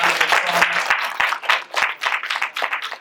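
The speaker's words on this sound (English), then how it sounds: "can we give them a big round of applause?" A burst of applause from a crowd at a medical symposium, dense clapping that stays loud for a few seconds before thinning out.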